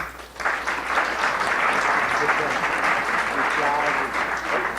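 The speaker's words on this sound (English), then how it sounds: "I think they deserve a big round of applause." An audience applauds the authors at the close of a book talk, dense sustained clapping that fills the room at steady strength for several seconds, with a few murmuring voices beneath.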